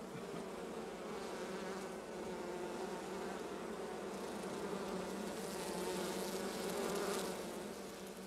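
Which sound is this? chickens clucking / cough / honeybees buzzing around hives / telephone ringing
honeybees buzzing around hives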